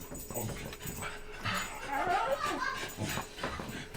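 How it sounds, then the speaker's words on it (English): Dogs bark, yip and whimper in a noisy room, mixed with children's voices and playful shouting, the commotion continuous and fairly close throughout. "So we got kids and we got dogs."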